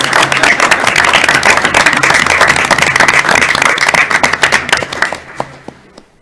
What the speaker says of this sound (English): don't you think we should give another round of applause?